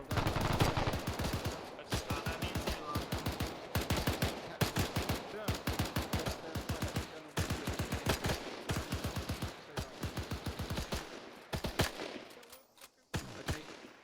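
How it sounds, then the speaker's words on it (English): Sustained bursts of MG42 machine gun fire in a World War II video game, rapid rattling volleys repeating near-continuously for about fourteen seconds with brief gaps, loud and close, with faint voices now and then. "Suppress that MG42."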